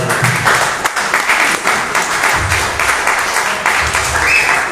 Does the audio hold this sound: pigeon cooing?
no